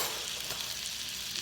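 A hot pan with a spoonful of melted butter sizzles in a steady, close, even hiss, briefly and without voices, as prawns cook over high heat.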